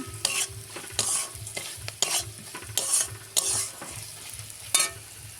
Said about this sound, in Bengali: তারপরে এটাকে নেড়ে নেব।